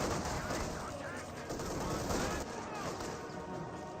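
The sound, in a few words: gunfire in Company of Heroes 2 video game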